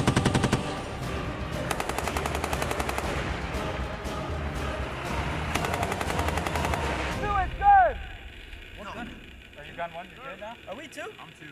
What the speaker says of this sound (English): We actually put together a convoy of 5 MTVRs with mounted machine guns, and they were able to move and shoot while working convoy actions.